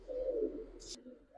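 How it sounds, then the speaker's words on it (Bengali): A Giribaz or silver pigeon gives a single low, throaty coo close by, with a brief rustle of feathers or movement partway through. "ভালো ভালো ভালো কবুতর আছে।"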